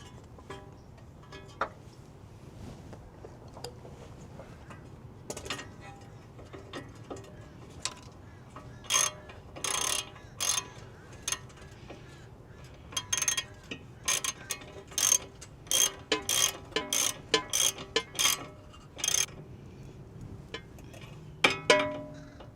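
Tie rod end compressed with a press tool, a series of sharp clicking, ratcheting mechanical strokes growing more frequent over a faint background hum.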